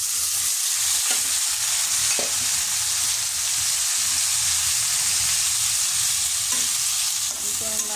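Sliced bitter gourd frying with onions in hot oil in a pan, giving a steady loud sizzle and hiss throughout, with occasional scrape and clack of a spatula stirring.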